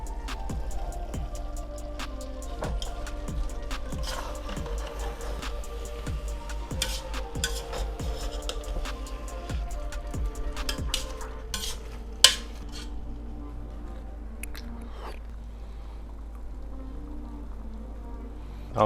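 Parmesan cheese stirred into a skillet of sausage and peppers, with a utensil clinking and scraping against the pan in a steady rhythm through a low kitchen hum, and a couple of sharper knocks near the end.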